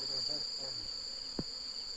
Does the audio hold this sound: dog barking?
no